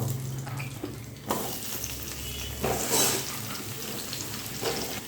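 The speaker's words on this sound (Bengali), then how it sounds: "এখন আমি ওই তেলের মধ্যে ভেজে নেব বেগুনগুলো" Eggplant pieces fry in hot oil in a home kitchen. The sizzle is close and moderately quiet, with stirring scrapes and bursts of louder crackle.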